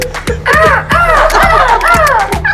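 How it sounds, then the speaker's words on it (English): A seagull calls repeatedly in the background, a run of loud, harsh, rising-and-falling cries in quick succession with no talk over them. "That's a seagull in the background."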